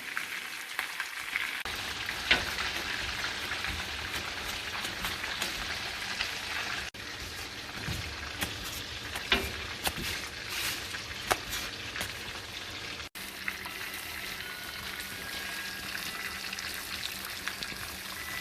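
Breaded shrimp frying in a pan of oil: a constant, soft crackling sizzle with scattered pops, steady and fairly quiet from start to finish, with no voices.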